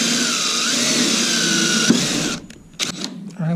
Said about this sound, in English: Now I'm going to use the self-tappers to drill a pilot hole.